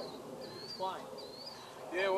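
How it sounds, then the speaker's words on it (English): A bird calls outdoors among trees, giving faint, thin whistled notes that rise and fall in a few short phrases, with a louder call at the end over quiet background murmur. "I hear a bird."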